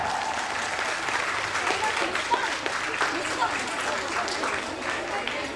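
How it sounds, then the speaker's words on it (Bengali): An audience claps steadily and loudly at a school's annual prize distribution and 75th-year closing ceremony, a sustained wash of applause filling the hall from start to end. "আমাদের এই ছোট্ট ছোট্ট স্টুডেন্টগুলোর জন্য একটু জোরে জোরে হাততালি দরকার।"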